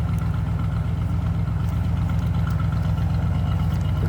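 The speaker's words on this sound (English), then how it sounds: "V8 rumble." A 1958 Pontiac Bonneville V8 idling with a steady low rumble, close and even, with a faint lope and no voices over it.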